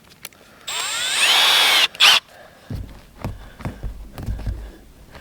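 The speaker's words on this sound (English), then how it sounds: "I'm trying to shoot a screw in this roof" Power drill drives a screw into an RV roof, a loud whining burst of about a second followed by a short second spin, then quieter handling thumps and knocks.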